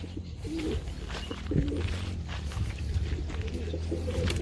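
Pigeons coo low and steadily at close range while being fed, with a faint distant stray bird among them, over a busy outdoor background.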